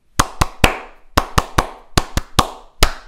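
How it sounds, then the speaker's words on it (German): Hands clap sharply in a Japanese ipponjime closing ceremony, a run of crisp, loud claps grouped in rhythmic threes with short pauses, close and dry with no talking. "Das ist, wenn man dreimal klatscht."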